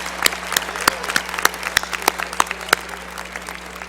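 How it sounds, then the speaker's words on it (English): Audience applause at a winter commencement ceremony, a sparse crowd clapping with distinct individual claps in an irregular rhythm, moderately loud and steady throughout with no talking. "Everybody applaud the Holtzapfel family."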